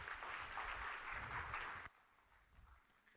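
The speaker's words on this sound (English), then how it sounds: "please give them a big round of applause." Audience applause at a community tech talk on site reliability engineering: a dense, steady round of clapping from a crowd that stops abruptly partway through, leaving quieter room noise behind.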